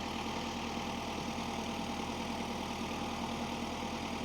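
A tractor engine idles steadily nearby while warming up in a yard, a constant rhythmic chugging drone with no voices or changes in pace.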